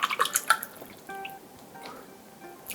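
Cold bottled drinking water splashes and drips briefly into a container for naengmyeon broth, a quick burst of close watery spatter at the start that fades to faint trickles.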